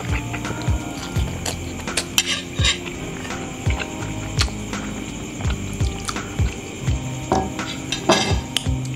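Light metallic clinks and taps of cutlery against a bowl of Indomie spicy instant noodles, repeated in an irregular rhythm, close and fairly crisp, with soft slurping and wet squishing in between and no talking.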